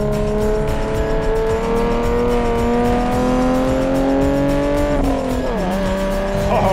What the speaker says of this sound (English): we've got a big, proper V12 in the rear, back wheel drive with posi